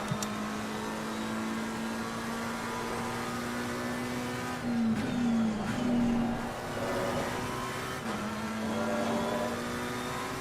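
A McLaren 720S race car at Imola in Assetto Corsa Competizione holds a steady engine drone, with short gear-change dips and a couple of revving surges and tire squeals partway through, without any talk.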